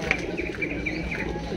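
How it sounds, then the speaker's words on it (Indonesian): Pigeons, including homing pigeons, coo softly in a busy bird market, with faint chirps and a low crowd murmur underneath. "Di sini ada Bapak Poli selaku pedagang merpati pos resi"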